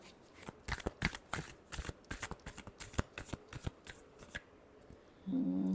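Tarot cards are shuffled by hand, a rapid series of close, crisp riffling and flicking bursts, ending in a final hiss.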